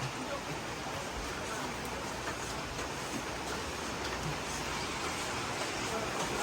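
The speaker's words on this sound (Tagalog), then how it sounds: "Hala, nag-ulan naman." Steady rain falls on a farm during a typhoon, with a dense, even hiss and soft patter, constant throughout with no talking.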